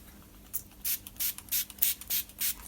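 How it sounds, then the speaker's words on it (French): A hand spray bottle wets a Renault Clio 2 headlight for restoration, giving six quick, even hissing squirts close by in a steady rhythm against a quiet background. "on va avoir besoin du verre numéro 1 et du spray en plus pour pouvoir l'humidifier directement"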